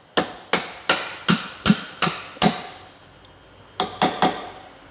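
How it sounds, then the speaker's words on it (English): Aluminum punch being hammered to drive a gland into a snow plow angle cylinder: seven sharp, evenly spaced metallic strikes, a pause, then three more quick hits, close and loud with short ringing decays. "I'll take my aluminum punch here and I'll hit that in"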